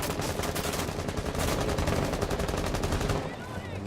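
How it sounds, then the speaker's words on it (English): Dense, continuous bursts of automatic gunfire crackle loudly and rapidly, overlapping into a steady barrage for several seconds. "A lot of gunfire now on this occasion."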